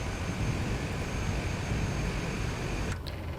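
A Cessna Grand Caravan in Microsoft Flight Simulator taxiing, its engine giving a steady loud droning roar throughout with a brief higher whine near the end.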